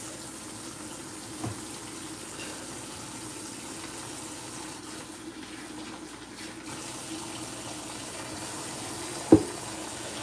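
Tap water runs steadily into a sink as a shorty sponge is rinsed, a soft continuous low wash with a couple of brief splashy knocks, no talking.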